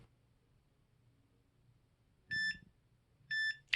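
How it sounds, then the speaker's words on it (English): A Mini Educator remote gives two short, clean electronic beeps about a second apart, near and alone against a quiet background. "you just hold it down and it'll beep at you twice"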